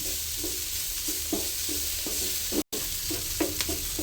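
Capsicum sautéing in a pan for chicken soup gives a steady, loud sizzle, broken by rhythmic stirring scrapes roughly every half second and one brief dropout; close, with no talking.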